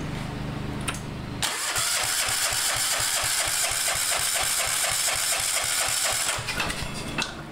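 A John Deere tractor engine being cranked over by its starter, a rapid rhythmic chugging of regular compression pulses lasting about five seconds without catching, close and loud, with mechanical clatter before and after.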